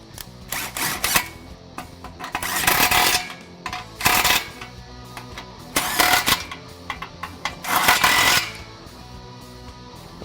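Exhaust clamp bolts being snugged on a 2015-2017 Mustang GT MBRP aluminized cat-back give close bursts of ratcheting, clicking and metallic handling noise in several separate spells.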